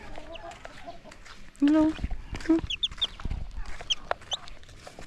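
Chickens on a small farm give several short clucks and calls, fairly close, mixed with background noise and brief human speech.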